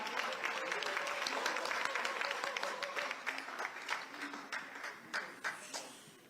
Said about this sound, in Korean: 신임 국무총리를 큰 박수로 맞이해 주시기 바랍니다